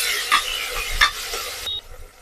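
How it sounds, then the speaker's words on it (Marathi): Tomatoes go into a sizzling Marathi-style tempering of chillies in a hot pan, with loud stirring scrapes and crackling frying over about two seconds; no one talks. "तर आता मी टमाटर पण टाकते याच्यामध्ये."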